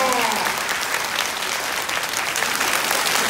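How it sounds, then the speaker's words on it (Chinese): An audience applauding in the fifth-floor auditorium of the Taiwan Railway building at its 131st anniversary ceremony, a dense, steady wash of clapping that fills the hall throughout. "那我们再以热烈掌声，谢谢部长，欢迎部长"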